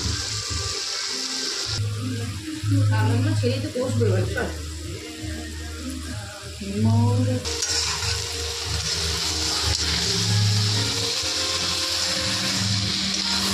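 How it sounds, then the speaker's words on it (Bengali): Crabs sauté in a pan with garam masala, a steady loud sizzle and frying hiss running throughout, with stirring scrapes and a voice talking over it in places. "গরম মশলার গুঁড়ো দিয়ে ভালো করে কষিয়ে নিয়ে কাঁকড়াগুলো দিয়ে দিলাম"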